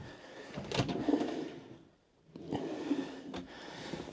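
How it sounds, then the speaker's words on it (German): Storage drawers under the sleeping area of a 2021 Dethleffs Globetrotter XL I 7850-2 Edition 90 motorhome slide and bump twice, two sliding runs with clunks about two seconds apart, close and fairly loud, with a brief quiet gap between. "Und hier sind Schubladen untergebracht, die auch nochmal reichlich Stauraum bieten."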